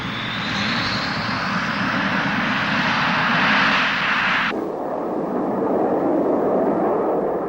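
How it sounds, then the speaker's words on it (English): Soviet military jet with an R-29-300 engine flying at low level, a loud, sustained roaring rush that thins and softens partway through as the aircraft passes, with no voices. "The R-29-300 engine gives tremendous performance at low level"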